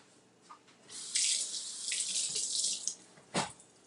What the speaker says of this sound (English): I dropped it in there, so I'm going to rinse this egg off.